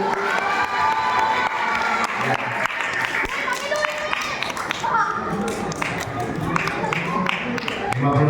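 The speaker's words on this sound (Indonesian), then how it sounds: "Tepuk tangan buat Ibu." A crowd of adults and children at a Maulid Nabi gathering claps and cheers, lively shouts and children's voices rising over rapid applause, with talking mixed in throughout.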